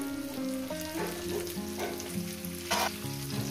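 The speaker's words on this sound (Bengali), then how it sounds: "আলুগুলো দিয়ে আমি মিনিট 2 ধরে ভেজে নেব" Potatoes fry in a pan with a soft steady sizzle and occasional bursts of crackling, fairly quiet, under a sustained musical backing with no talking.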